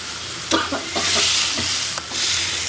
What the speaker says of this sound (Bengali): কষানো হোক তো মশলাটা টমেটোর সাথে কষানো হয়ে গেছে